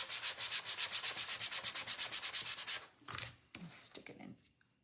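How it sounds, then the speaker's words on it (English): Sandpaper rubbed back and forth over a small wooden craft stand, a steady run of about twenty close, rhythmic scrubbing strokes, then stopping as a few quieter knocks and handling noises follow. "Smaller stand goes with this one, so let's sand this."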